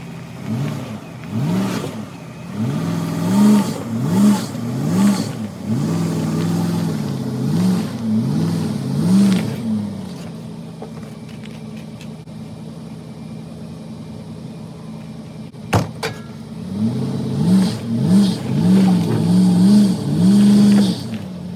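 A project car's engine on a build is revved repeatedly in bursts, loud and close, then settles to a steady idle before another series of sharp revs near the end.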